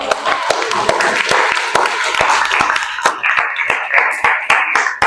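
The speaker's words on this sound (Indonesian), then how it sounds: "Ya, tepuk tangan dulu untuk" A high school class applauds a presenting group, scattered close hand claps building into brisk, uneven clapping across the room, with some voices under it.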